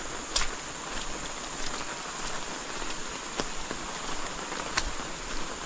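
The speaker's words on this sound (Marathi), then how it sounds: "पाऊस एवढं जोरात पडत आहे ना" Heavy monsoon rain in the Konkan countryside, a dense continuous patter on surfaces with scattered sharper drips on top, loud and steady from start to finish.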